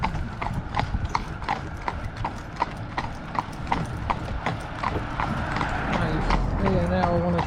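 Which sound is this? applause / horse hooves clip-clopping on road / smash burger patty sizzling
horse hooves clip-clopping on road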